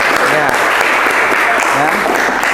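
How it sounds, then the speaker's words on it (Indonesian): A classroom of students claps together in a continuous, close, fairly loud burst of applause, with a few voices faintly audible beneath the clapping. "Tepuk tangan untuk kalian."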